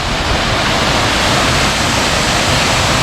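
Waterfall on the La Cloche Silhouette trail rushing in a dense, loud, unbroken hiss and roar close by, with no voices.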